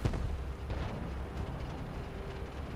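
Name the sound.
Conqueror tank cannon shot in a tank video game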